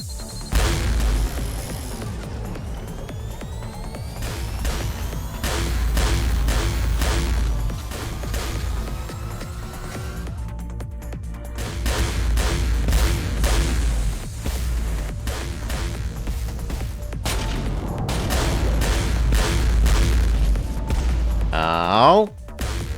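Spaceship weapons barrage and explosions in the space combat game Trigon: Space Story, with dense rapid firing pulses and booming impacts throughout, a brief lull midway, and a voice talking over part of it.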